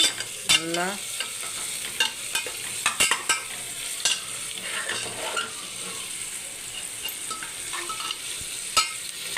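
Onions frying in a pan for prawn biryani, with steady sizzling and repeated sharp clinks and scrapes of a stirring utensil against the pan, close and fairly loud, no talking.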